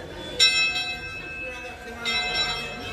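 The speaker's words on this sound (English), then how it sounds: "they can still operate the bell" A bell rung at a railway museum during a Day Out With Thomas event, with a sharp metallic strike followed by a sustained ringing tone and a second strike near the end, over background crowd chatter.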